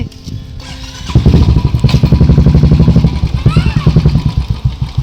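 A Bullet motorcycle engine starts and settles into a loud, thumping idle with a steady rhythmic beat, close by, with light rain around.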